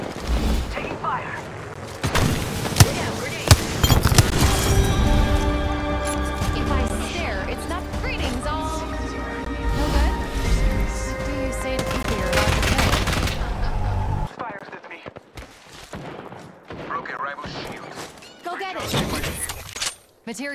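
Video game gunfire crackles in rapid bursts and single shots under ongoing talk and game voice lines, loud and close, over background music, then breaks off into quieter intermittent shots near the end.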